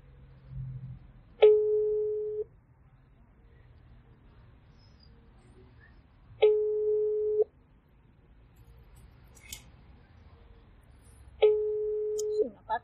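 An unanswered phone call rings out: three identical ringback tones, each lasting about a second and spaced several seconds apart, with near-silence between them and a faint click or two.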